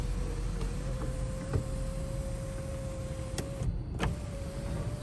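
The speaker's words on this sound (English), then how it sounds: "It does have a full-size sunroof" Motorized full-size sunroof on a 2011 Toyota 4Runner Limited whirring steadily as it opens, a continuous electric motor drone with a few faint clicks, close and moderately loud, no talking.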